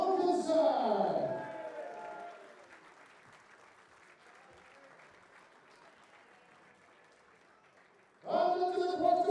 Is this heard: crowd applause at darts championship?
yes